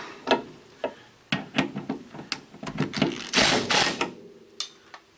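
A ratchet wrench clicks in quick, irregular bursts while tightening stabilizer link nuts on a 2000 Honda Civic EX, close up, with metallic clanks and a brief scraping rush mid-way, no talking.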